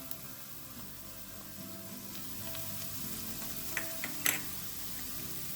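Garlic sautés in a pan with chili powder, giving a quiet, steady sizzle with a few soft utensil clinks toward the end and no talking.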